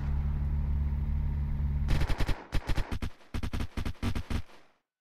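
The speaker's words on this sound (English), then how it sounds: "They're shooting you." Rapid automatic gunfire in the Unturned video game, beginning with a low engine drone and then breaking into dense bursts of sharp, close shots that stop abruptly.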